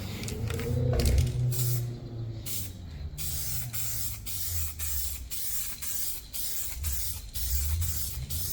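An aerosol spray paint can lays a colour coat onto a car bumper during a DIY bodywork repair, giving a series of hissing bursts of varying length with brief gaps between them, close and fairly loud.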